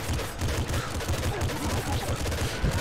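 Rapid, continuous gunfire from the video game Nuclear Throne, a dense unbroken stream of shots at steady volume, with no voices over it.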